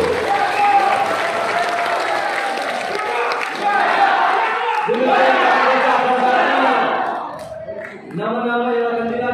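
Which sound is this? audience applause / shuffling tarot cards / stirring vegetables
audience applause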